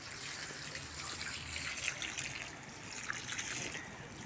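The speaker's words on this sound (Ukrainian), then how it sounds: "Я набрала води, мені треба налити води" Water is poured from a container into a plant pot under a roof, a soft, steady trickle heard close and fairly quiet for a few seconds.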